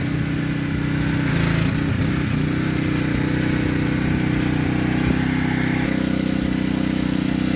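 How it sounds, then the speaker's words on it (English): A gas-powered pressure washer fitted with a 15-degree nozzle runs steadily, cleaning a blackened, rough old Tonka toy truck, its motor droning loud and close with a constant hum throughout. "We are using the 15-degree nozzle on the power washer there."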